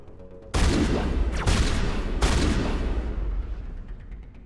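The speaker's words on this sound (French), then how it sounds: "Ça a l'air bien aussi le fusil à pompe" A shotgun in Mass Effect: Legendary Edition fires several heavy, loud blasts in quick succession, each boom trailing into a rumbling decay.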